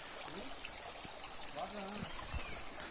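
Stream water near Penchalakona waterfalls trickles and gurgles in a soft, continuous flow, with faint voices murmuring beneath it.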